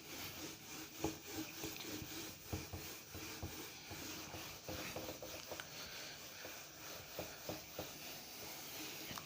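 A board rubbed with an eraser during a classroom lesson, producing soft irregular scrubbing and rubbing strokes that come and go continuously at close range.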